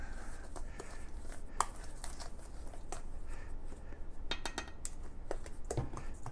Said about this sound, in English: we're going to get just the dry ingredients mixed together pretty well here